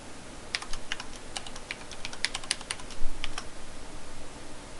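Password typed on a computer keyboard, a quick run of light, close key clicks in an irregular rhythm over a quiet room hiss.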